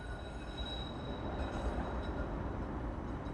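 Helsinki tram line 8 running in the city, a steady rumble with a faint high whine from the motors, heard alone at an even moderate level.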